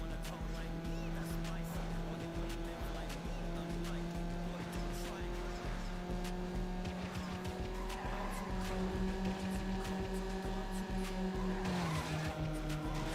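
Race car engine in a video game with steady harmonic drone and tire squeal, the pitch shifting as the car slides out, continuous and fairly loud throughout, with faint talk underneath.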